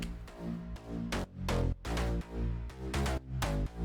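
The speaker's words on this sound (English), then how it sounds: "The basses used in the drop come from 3 different Serum presets" Three layered Serum synth bass presets from an electronic drop, pumping hard with sidechain ducking: loud sustained bass chords that dip sharply in rhythmic gaps, with no voices.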